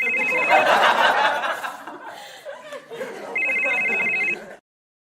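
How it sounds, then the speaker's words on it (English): A telephone bell rings in two bursts, one at the start and one near the end, amid laughter and chuckling at a virtual wellness event, with voices in the background. "Why is the phone ringing?"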